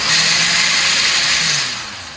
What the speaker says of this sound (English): So I'm going to go ahead and give it a good blend again.